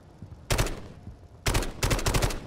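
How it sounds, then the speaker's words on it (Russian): Gunfire in the shooter game Delta Force: Hawk Ops, heard as two bursts of rapid shots, the first near half a second and a longer, louder volley from about 1.5 seconds to the end, fairly close with no talk. "Да, конечно, когда пули летят"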